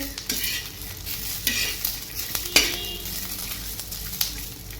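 A pan dry-roasting something at close range gives a low, dry crackle, with frequent scraping and clinking of a spoon as it is stirred and a few sharper knocks against the metal.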